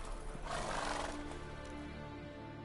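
Roach the horse whinnies in The Witcher 3, a single close neigh rising and fading within a second or so over a low game background.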